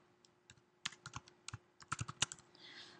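Quiet, close typing of a Java statement on a computer keyboard, irregular keystroke clicks speeding into a denser run, ending in a soft rustle.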